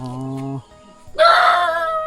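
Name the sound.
rooster crowing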